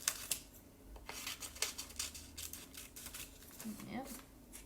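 Scissors snip through a paper envelope to shape a small window for an art journal, giving a run of close, crisp cutting and rustling sounds, with brief pauses between snips.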